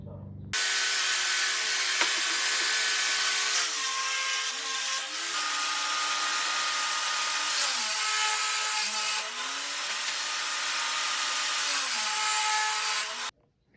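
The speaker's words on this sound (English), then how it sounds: "First, you get a 4x8 sheet of particle board that is 1/2 inch. Cut it in half. Set the table saw to 10 inches." A table saw rips a half-inch sheet of particle board, a loud continuous high whine with the motor tone dipping and rising as the blade bites, starting and stopping abruptly.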